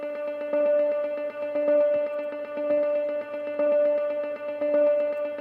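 Arpeggiated nylon-string guitar from the Nordic Spheres sample library plucks a repeating pattern of notes at an even pulse, with a sustained, shimmering ringing tone. It plays alone.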